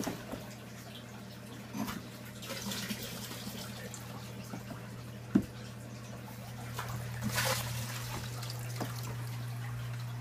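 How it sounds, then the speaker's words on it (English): Aquarium water trickles and drips through a siphon in a quiet room over a steady low hum, with a soft splash and a few faint knocks along the way. "Start the siphon."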